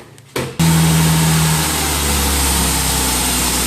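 A Ford Taurus engine cranks briefly and catches, then settles into a steady, loud idle with a constant low hum, close by.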